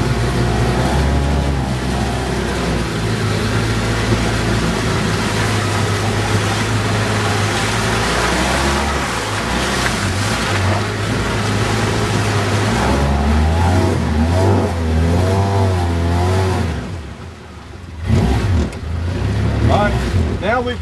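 Polaris Ranger 700XP utility vehicle driving off-road in unlocked two-wheel drive near a beaver dam, its engine droning steadily and close with changes in pitch and bumpy rattles, while people talk over it.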